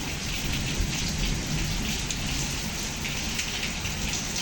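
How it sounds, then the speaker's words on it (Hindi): Steady, heavy rainfall pours down continuously, a dense broadband hiss of drops hitting surfaces with no voices present. "पता नहीं कितनी बारिश हो रही है"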